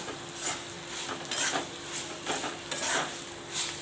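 Turmeric and red chili powder are stirred into a mixture in a pan, a spoon scraping in a steady repeated rhythm over a faint sizzle, close and moderately quiet.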